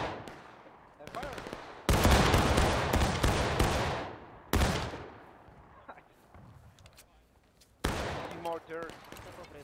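Musket volleys fired by a reenactment company, three loud, sharp cracks spaced several seconds apart, each ringing out and decaying, with a smaller crack just before the first.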